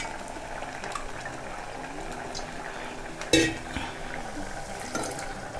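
Bean vegetable curry (flat hyacinth beans) simmers in a pot with added water. A spoon stirs it at a steady low level, with one sharp clank against the pot midway and faint bubbling throughout.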